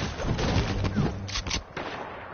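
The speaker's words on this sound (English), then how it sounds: "All I hear is gunshots, but I don't hear death." Rapid overlapping gunfire from a crowded online shooter match, dense bursts of shots close and loud throughout with no voices.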